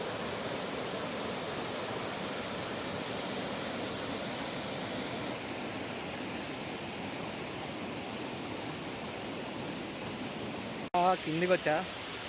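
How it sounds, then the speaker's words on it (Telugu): Viripara waterfall in Munnar pours in a steady, loud broadband roar of falling water that fills the scene without a break, with a brief burst of other sound near the end. "కిందికి వస్తే ఇది హోల్ వాటర్ఫాల్ వ్యూ."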